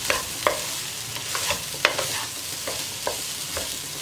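Cooked rice is stirred into sizzling vegetables in a pan for vegetable fried rice, with a steady frying hiss broken by regular scraping strokes of a spoon, close and without talk.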